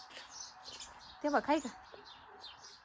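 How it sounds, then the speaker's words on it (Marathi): Sparrows nesting in a plaster ceiling indoors give a short, quick burst of chirps in the middle, while people talk quietly nearby. "तर जसं की बाहेर तुम्ही चिमण्यांचा सगळीकडे चिवचिवाट पाहिला असेल"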